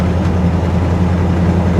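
A Jeep SUV engine runs steadily while driving, a smooth continuous low hum with strong low tones and no talk over it.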